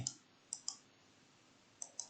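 A computer mouse clicks four times in two quick pairs, sharp and faint against a quiet background.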